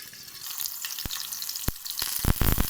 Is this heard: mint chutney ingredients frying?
yes